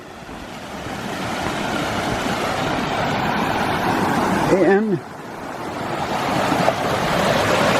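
Bear Creek, running high with snowmelt in Bear Canyon near Boulder, Colorado, rushes as a steady broadband roar, briefly interrupted by a short spoken word and a wind buffet midway.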